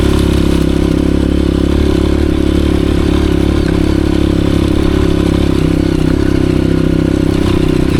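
A Honda CRF 230F dirt bike runs loud and close on a rough mountain trail, its engine droning steadily with constant throttle, mixed with clattering and scraping from the rocky ground.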